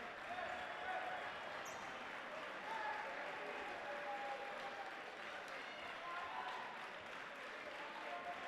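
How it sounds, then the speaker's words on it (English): Applause from the home crowd at a boys prep basketball championship game as starters take a seat, a steady broad wash of clapping at moderate distance with faint crowd murmur, continuing throughout. "A nice round of applause from the Blair Academy faithful as the starters take a seat"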